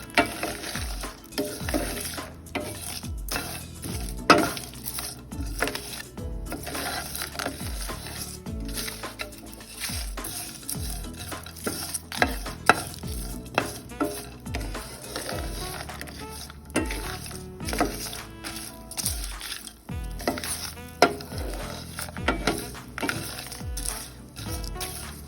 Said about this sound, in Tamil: இந்த பொட்டுக்கடலையை நல்லா ஃப்ரை பண்ணுங்க.